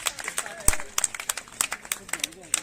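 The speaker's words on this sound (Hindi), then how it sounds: "बैठे बैठे तालियां बजाओ भाई सभी।" Seated audience at a New Year party at an academy claps in scattered, uneven rhythm, sharp close hand claps mixed with a cheer and voices.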